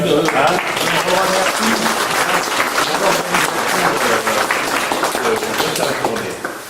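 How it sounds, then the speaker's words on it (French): Audience at a ninetieth-anniversary commemoration of the end of the Great War applauding loudly and continuously, a dense crowd clapping with voices mixed in throughout. "je voudrais qu'on applaudisse Bruno."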